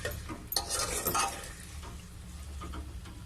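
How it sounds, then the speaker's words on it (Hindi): Potatoes frying in a pan are stirred with a utensil, giving close scraping and clinking over a continuous sizzle, with no talking. "हम साथ साथ इन आलूओं को हिलाते रहेंगे ताकि ये नीचे लग न जाए।"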